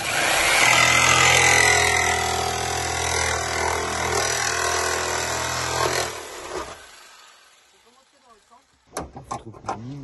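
Power tool cutting an opening for a window through the wall of a Fiat Ducato camper van, loud and continuous grinding roar for about six seconds, then stopping, followed by quieter sharp knocks near the end.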